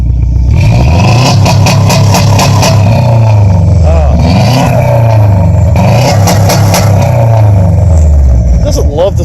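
A 2005 Subaru WRX with a Flowmaster exhaust revs hard and repeatedly against a rev limiter set near 4,000 RPM in an open lot, loud and close, with the engine note rising and falling in bursts.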